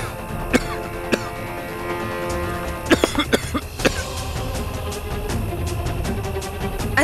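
A person coughs repeatedly in short, sharp bursts, with a cluster of harsh coughs in the middle, over steady background noise in a dramatic scene.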